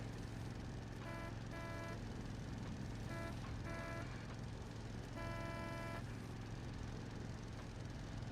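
A car horn in World of Warcraft sounds in short repeated honk bursts, two quick pairs early, another pair midway and one longer blast near the end, over steady engine and road drone from driving through a town.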